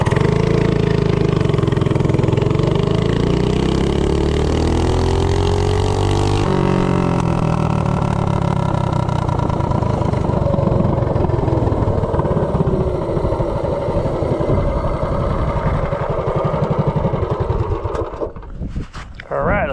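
A bonanza bike with a Duromax 208 engine and 1.3 ratio rockers accelerates hard from standstill to 30, its loud, close engine note climbing steadily in pitch, then easing off near the end.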